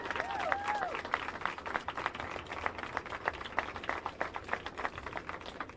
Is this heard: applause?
yes